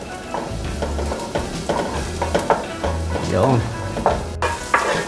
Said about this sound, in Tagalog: nilagay na po natin ang bawang at sibuyas.